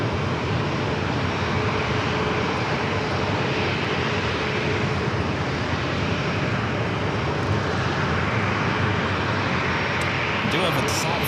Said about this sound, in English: Southwest flight heading to SFO.